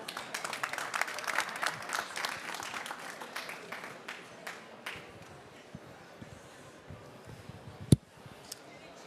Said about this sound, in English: So please give Jack a round of applause.